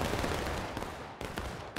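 A musket volley fired in the video game War of Rights: a loud ragged burst of overlapping gunfire that rolls on as a dense crackle, with a fresh sharp crack near the end.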